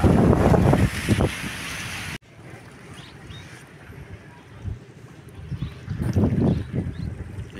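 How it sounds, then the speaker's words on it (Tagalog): Steady wind gusting and rumbling against the microphone at a seaside pier under repair, with waves washing below, a brief loud buffeting burst at the start, then a softer continuous rush that swells again near the end. "Dito tayo sa tabing dagat. Maglanghap ng hangin."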